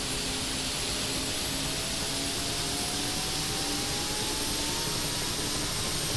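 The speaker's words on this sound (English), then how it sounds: "Then do a roll up the throttle all the way to the max." A Mi helicopter's turbine engine in the DCS flight simulator spools up as the throttle is rolled to max, giving a steady loud jet-like roar with a slowly rising whine throughout.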